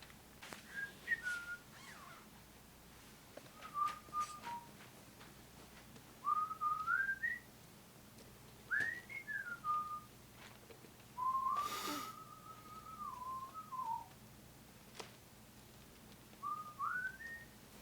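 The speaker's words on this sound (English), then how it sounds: "Doesn't have a care in the world right now, just whistling away." A man in a Breaking Bad scene whistles a carefree, wandering tune in short melodic phrases with pauses between them, soft and fairly close over a quiet background with occasional clicks.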